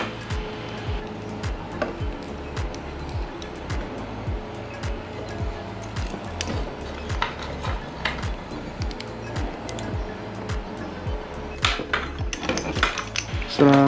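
A metal cup on an MSR Whisper hybrid-fuel camping stove for gas and petrol is screwed and closed, giving a rapid run of small metallic clicks and scrapes close up with no talk.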